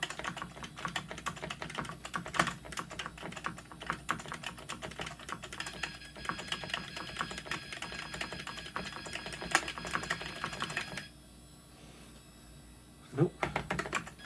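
Computer keyboard keys pressed in quick irregular taps against steady background hum while troubleshooting an old PC with IDE hard drives, clicking mostly stopping near the end, with faint speech in the background.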